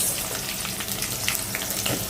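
Onion and green chilies sizzle in hot oil for a tempering, a close, continuous frying hiss dotted with small crackles and pops, with no one talking.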